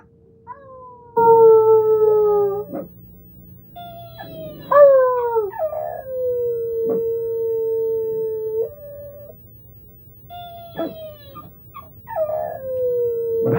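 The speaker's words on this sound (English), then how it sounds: "Little dog howling." A small dog howls in long, wavering, rising and falling notes, with several drawn-out howls separated by brief pauses, close and fairly loud, with a faint low background hum.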